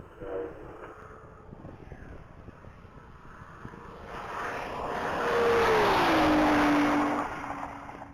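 A 2014 Nissan GTR Black Edition blasts past on a top speed run at a mile-long racing event, rising from distant wind-blown noise to a loud roaring pass with a falling engine pitch as it moves away.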